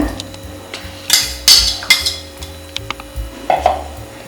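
Curd whisked hard in a bowl for a yogurt vada batter, making loud, irregular clinks and knocks of a utensil against the bowl.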